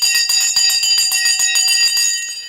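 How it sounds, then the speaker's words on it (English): A stock market opening bell rings loudly and close, a rapid continuous metallic clanging that keeps going for the whole stretch and fades slightly at the end. "The bell has gone."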